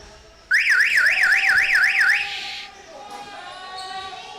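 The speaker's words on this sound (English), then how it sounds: "Ignore that alarm that's right above my head and really loud." Loud electronic alarm mounted overhead in a junior B lacrosse arena, a rapidly warbling siren tone lasting about two seconds before cutting out, followed by a lower steady buzzer-like tone under faint arena ambience.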